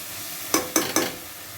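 Chilli powder fries in oil for a crab gravy as a spoon stirs the pan three quick times, each scrape loud over a steady background sizzle.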